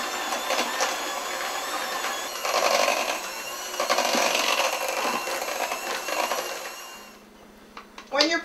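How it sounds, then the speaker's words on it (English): An electric mixer beating cooked potatoes, a loud continuous whirring with rattling clatter that swells and eases. It then cuts out, leaving brief knocks at the end. "But I'm going to use my mixer."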